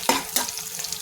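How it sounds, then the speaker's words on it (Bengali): Whole cardamom, cinnamon and bay leaf fry in hot oil in a pan while being stirred, giving a steady close sizzle with two sharper scraping strokes near the start. "দিয়ে দিলাম এখানে এলাচ, দারচিনি আর তেজপাতা। ভালোভাবে এটা নাড়াচাড়া করে নিই।"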